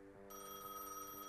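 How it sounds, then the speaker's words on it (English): An in-game telephone rings in Gas Station Simulator, a steady electronic tone with bright repeating harmonics pulsing in a regular rhythm, close and moderately loud with no talk over it. "The phone is ringing."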